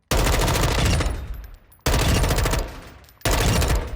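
Three long, loud automatic bursts from an M4 rifle in Warzone 2, each burst fading into a brief pause before the next starts.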